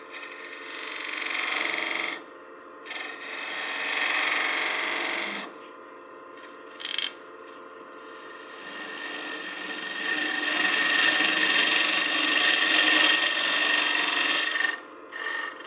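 A bowl gouge cuts a wooden succulent planter spinning on a lathe, giving a steady close rasping hiss in several long passes broken by short pauses, with a longer continuous cut near the end.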